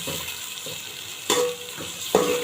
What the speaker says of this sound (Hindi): प्याज डाल रही हूँ, प्याज फ्राई करूँगी।